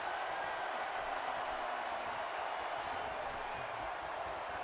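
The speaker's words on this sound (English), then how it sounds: "Listen to this crowd." A WWE 2K17 wrestling video game crowd roars in a dense, unbroken wall of cheering and applause, loud and sustained throughout.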